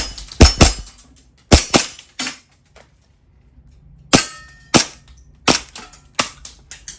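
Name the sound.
gas blowback airsoft pistol shooting steel targets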